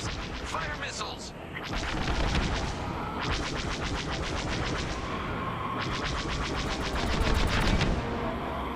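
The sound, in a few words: spacecraft firing missiles at fighters in video game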